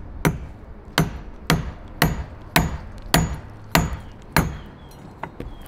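A hammer drives valve guides into the cylinder head of a Tillotson 225cc engine during a big-valve build: eight sharp metallic blows struck at an even, roughly half-second pace, close and loud, with no talking.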